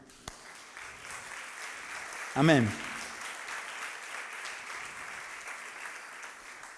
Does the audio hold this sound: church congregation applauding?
yes